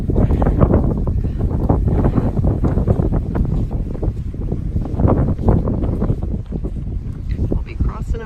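Strong wind buffets the microphone on an outdoor trail near a dam, a loud, continuous roaring rumble that persists throughout with little variation.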